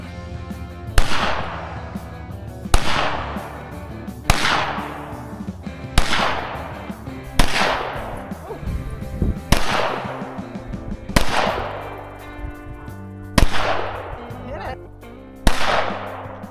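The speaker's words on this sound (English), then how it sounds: "Gonna do a little target practice with Dad's old vintage 22 pistol." Vintage .22 pistol fired at target practice outdoors in the Utah Rocky Mountains: eight sharp, fairly loud single shots at roughly even intervals of one and a half to two seconds, each with a short echoing decay.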